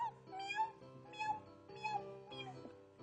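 A person's voice imitates a cat, giving four close, clear meows in a steady rhythm, each rising and falling in pitch.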